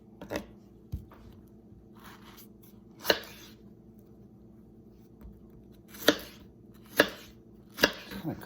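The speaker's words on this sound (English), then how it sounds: "I'm gonna cut them into manageable pieces." Oven-roasted tomatoes cut into pieces with a knife on a board, sparse sharp chopping taps spaced irregularly, close by over quiet room tone with no talking.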